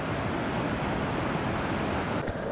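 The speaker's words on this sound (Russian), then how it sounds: "Так, а вот тут это и волны." Ocean surf rolling onto a black volcanic sand beach in Tenerife, a dense, steady wash of breaking water, close and loud, with wind buffeting the microphone and no talk.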